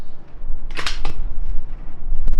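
A deer hunt rifle shot cracks out in a sharp burst, and a second sharp report follows a moment later. Both stand out over steady outdoor rumble, with a faint knock near the end.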